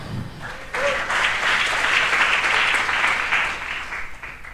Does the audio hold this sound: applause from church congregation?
yes